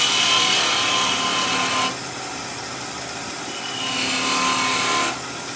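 Wood lathe turning a small tenon on a Christmas tree decoration, a loud continuous spinning hum with bursts of bright scraping hiss as the tool cuts, easing off briefly in the middle, no voices.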